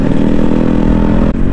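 A Yamaha RX-G motorcycle engine runs loud and close, its throttle opened lightly, giving a steady, rough mechanical drone with a brief dip near the end.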